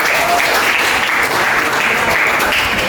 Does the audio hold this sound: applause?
yes